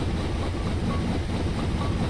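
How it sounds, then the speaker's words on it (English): A Big Boy steam locomotive in Train Simulator rumbles steadily, a dense low-heavy drone of engine and rolling noise, continuous and close, with no talk. "It is probably my favorite train engine ever of all time, which is saying a lot."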